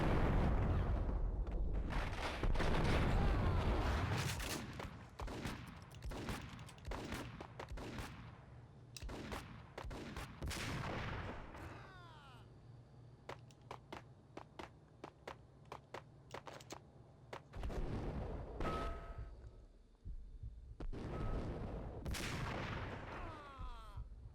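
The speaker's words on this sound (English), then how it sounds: "Max shooting obliterate a grenade is always funny." Video game gunfire in Max Payne cracks in rapid bursts and single shots, mixed with heavier booms of a grenade explosion, loud and dense over about twenty-four seconds, with brief lulls between volleys.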